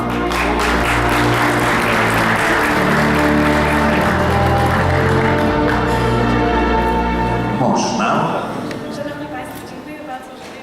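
Audience applause at the Łazienki 2015 awards gala, loud sustained clapping over a ringing, bell-like tone and background music that fades toward the end.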